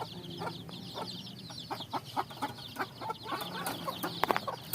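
Texas breed chickens clucking steadily at close range, with repeated short clucks and calls overlapping in a busy flock on a backyard farm, no talking.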